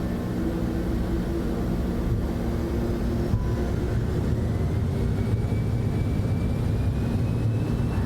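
A Citation X business jet in a flight simulator takes off from Salt Lake City runway 34 right, with a steady, loud, broadband engine roar and a faint rising whine, and no voices.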